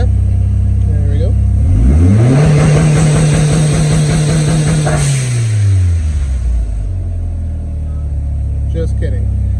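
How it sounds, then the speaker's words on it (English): A Starquest car engine is revved up hard and held bouncing against the rev limiter, a loud close buzzing stutter, then drops back to a rough idle. "That's the rev limiter."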